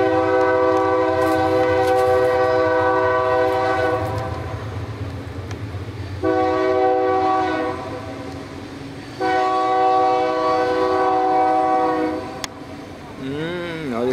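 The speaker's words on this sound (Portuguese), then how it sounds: "E o trem passando lá embaixo." Train passing below a rural farm plot, its horn sounding in long sustained blasts that pause and resume several times, loud and steady over a low rumbling engine, ending with a wavering tone.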